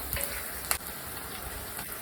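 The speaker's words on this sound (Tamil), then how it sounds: "இந்த ரெசிபியில் நம்ம ஆனியன் கூடவே சேர்த்து இந்த ரவையை வதக்க போகிறோம்" Semolina and onions sizzle and crackle steadily in a hot pan for a rava upma breakfast, with a few faint stirring clicks over a continuous close frying hiss.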